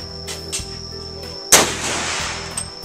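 Gunfire at the Cu Chi Tunnel shooting range in Vietnam, with one loud close shot booming and echoing away, plus fainter distant reports from other guns before and after, over a steady background hum.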